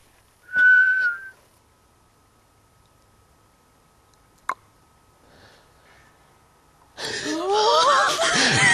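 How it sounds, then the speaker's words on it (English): A person gives a short, clear whistled tone near the start, then a single sharp click mid-clip, and a burst of louder broadband noise closes it, heard during a night ghost hunt at a ruined priory in the West Midlands. "Can anybody whistle?"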